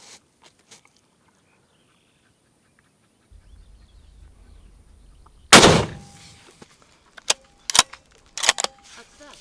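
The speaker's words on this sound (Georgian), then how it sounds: "გასროლა იქნება, საკმაოდ დიდი ხმა აქვს, ასე რომ მზად იყავით." A single loud crack from an Istanbul Silah Monza .308 caliber rifle fired at a gun shop test, sharp and close after quiet, followed by a few fainter knocks and clicks.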